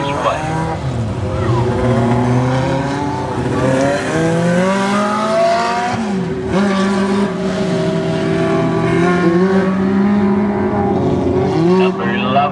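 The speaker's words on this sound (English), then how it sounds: "Here they come, dwarf cars," Dwarf race cars racing at an airport raceway, several engines roaring and revving continuously at close range with changing pitch as cars pass, under a steady announcer voice.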